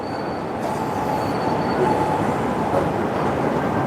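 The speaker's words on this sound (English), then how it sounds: "I'm just sitting below a train station right now." Continuous rumble of a train passing overhead at an elevated station in Japan, steady and fairly loud throughout with a faint high squeal, no talking.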